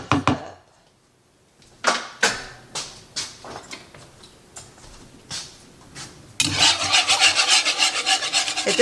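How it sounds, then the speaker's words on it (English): Ingredients for a freezer meal, including red pepper flakes, get whisked in a bowl, a series of scraping, rasping strokes that start separate and irregular, then speed into a faster, denser run near the end, close by with no talking. "I'm going to whisk so I can whisk this up."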